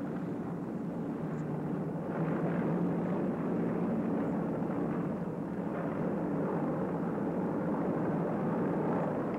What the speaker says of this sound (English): the planes return to their carriers